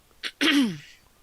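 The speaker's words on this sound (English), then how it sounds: "Excuse me for clearing my throat" Close, loud throat clearing: a short catch followed by a longer rasping, grating rumble, alone in a quiet room.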